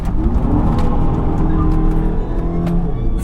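Skoda Superb engine revving toward 5000 RPM, a loud, continuous drone with a rising whine, heard from inside the car.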